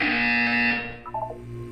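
A loud, harsh electronic buzzer in Portal 2 blares for under a second and cuts off, leaving a quieter hum and a few soft tones.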